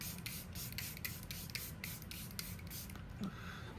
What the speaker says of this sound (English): now I'll go in with a setting spray just for that extra lock-in